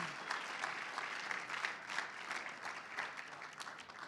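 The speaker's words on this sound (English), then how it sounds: "All right, applause, please." Audience applause at a technology summit in Arizona, a dense, even patter of many hands clapping at a distance, fairly faint and sustained without a break.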